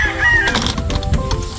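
Chicks in a brooder, heard as chickens clucking and crowing loudly and close over a steady, busy background.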